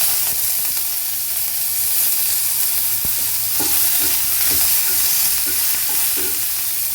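Asafoetida and curry leaves sizzle in hot oil for a Tamil sambar made without lentils, a steady bright frying hiss with soft stirring clicks and small pops near the pan, and no voices.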